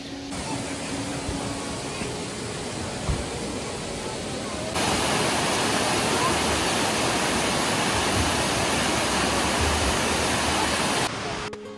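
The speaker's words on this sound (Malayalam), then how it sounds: "ഇപ്പോൾ ചിന്നക്കനാൽ വാട്ടർഫോൾസ് എന്ന് പറയുന്ന ഒരു സ്പോട്ടാണ്. നല്ല ഭംഗിയുള്ളൊരു വെള്ളച്ചാട്ടം" Chinnakanal waterfall beside the Gap Road in Idukki during the monsoon pours with a steady, broad roar that grows noticeably louder and fuller midway, continuous and close with no pauses.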